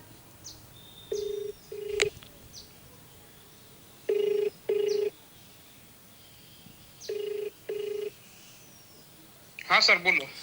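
Outgoing phone call ringback heard over a handset, with paired ring tones repeating in a steady pattern across a quiet line before someone answers, plus brief clicks and a short burst of voice at the end.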